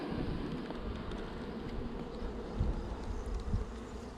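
Honey bees from a crowded, busy hive full of brood frames drone in a dense, continuous buzz close to the microphone, with a few soft bumps from handling the frames.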